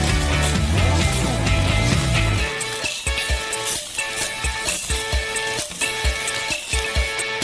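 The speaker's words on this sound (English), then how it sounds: "we constantly crush and mix the cheese" Cheese crushed and stirred in a pan over low heat on the stove, with a rhythmic series of scraping, squelching strokes following a busier opening stretch.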